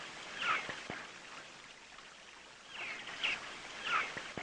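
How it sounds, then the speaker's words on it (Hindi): A waterfall heard as a soft, steady broadband rush of falling water, fairly faint and continuous, with a few light chirps and splashes over it and no talking. "ये झरने की आवाज़ सुनो तो मन को बहुत सुकून मिलता है"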